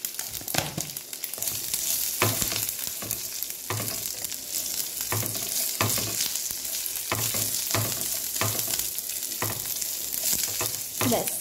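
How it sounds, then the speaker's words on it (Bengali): Green chillies and curry leaves sizzle and crackle loudly in hot oil, with a spoon scraping and stirring in repeated strokes over the steady frying hiss. "কারি পাতা সবগুলো একটুখানি ভাজা ভাজা মতো হয়ে যাবে হালকা"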